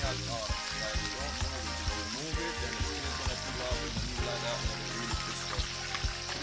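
Fish frying in a pan on a home stove, a loud continuous sizzle and crackle running steadily throughout, with background music playing over it.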